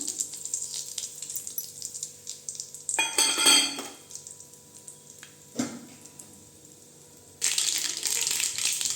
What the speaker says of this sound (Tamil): அதே வடச்சட்டியில் எண்ணெய் ஊற்றிக்கலாங்க. கடுகு சோம்பெல்லாம் போட்டுக்கலாம்.